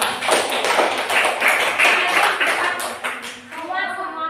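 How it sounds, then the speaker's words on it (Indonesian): Classroom applause for a student group, a dense burst of many hands clapping close by, fading out toward the end with a brief voice. "beri tepuk tangan untuk kelompok 2"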